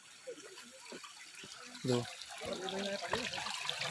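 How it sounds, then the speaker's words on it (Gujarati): Rainwater running down the stone steps of Girnar hill at Junagadh in misty weather, a soft trickling and splashing flow that is fairly faint, with someone talking over it. "પાણી ઉપરથી આવવા માંડ્યું છે, ઉપર વરસાદ આવે છે મિત્રો"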